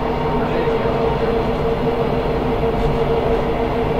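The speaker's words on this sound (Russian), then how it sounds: "что мы видим на легком электропоезде, сейчас у нас разогнало до 68 км в час" An ED9M electric train at about 68 km/h heard from the driver's cab, with a loud, continuous rumble of running gear and motors and faint rail clatter, no voices.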